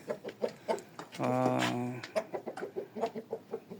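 Rhythmic soft clucks from a hen, broken by one longer loud squawk, close by in a quiet setting.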